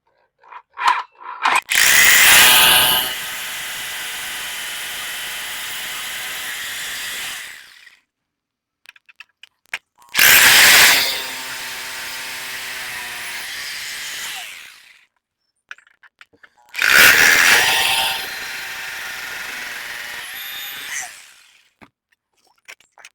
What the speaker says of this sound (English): So I've got my roto hammer here.